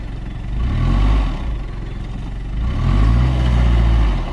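A stuck Mitsubishi Delica's engine revs hard as its wheels dig in, a loud, close rumbling drone that swells twice, with steady clatter underneath.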